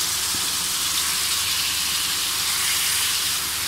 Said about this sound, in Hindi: ये देखिए चिकन को मैंने इस तरह तेज़ आंच पे फ्राई कर लिया है।